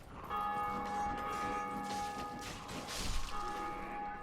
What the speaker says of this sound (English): and even hear when they ring one of the bells of awakening.